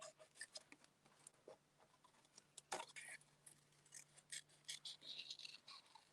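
Snips cut through paper card for a handmade pop-up cube birthday card, giving a scatter of quiet, crisp snipping clicks up close over a faint steady hum, with a voice speaking in between.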